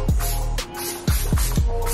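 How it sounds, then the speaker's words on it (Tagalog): Bulgarian rose water mist serum, a Korean face spray, sprayed in several short, sharp hisses with brief pumping clicks, close and fairly loud, with no voice. "Let me do my spray."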